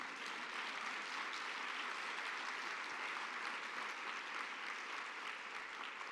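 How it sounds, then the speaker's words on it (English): Keynote audience at a Summer Changes Everything conference breaks into steady, even applause, a dense wash of many hands clapping from a large crowd, somewhat distant and unbroken throughout. "Give me a round of applause for that idea."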